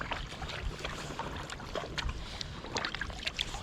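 A paddle dips and pulls through water from a small boat paddled in snowy weather, making soft, irregular splashes and trickles over a faint breezy background. The strokes sound close and quiet.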